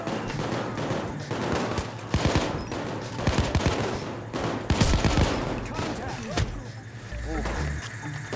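Rapid automatic gunfire and scattered shots crackle through a Payday 2 heist firefight, loud bursts repeating over several seconds while players talk over the shooting.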